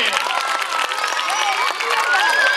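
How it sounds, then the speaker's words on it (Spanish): Schoolchildren in a classroom applaud loudly in a dense, bright burst of clapping, with cheers and high children's voices mixed in throughout. "creo que hemos dicho que íbamos a aplaudir de verdad."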